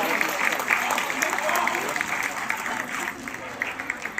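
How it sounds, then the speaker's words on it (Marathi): An audience at an award ceremony claps loudly in a sustained burst that lasts the whole stretch and thins slightly toward the end, with some voices mingled in. "एकदा जोरदार टाळ्यांचा कडकडाट."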